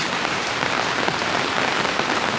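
Steady rain falls and patters on surfaces, a dense, continuous hiss that is close and loud with no voices.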